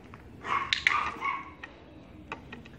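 A young puppy at agility training gives a short run of high, excited yips and barks up close, followed by a few fainter, scattered yelps.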